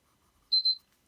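A short electronic alarm from a 15-minute timer, two quick high-pitched beeps in close succession, clear and alone in a quiet room.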